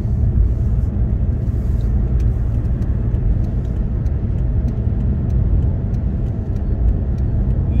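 A car drives along a road in Klaipėda, Lithuania, with a steady, close low rumble of engine and tires heard from inside and no talking.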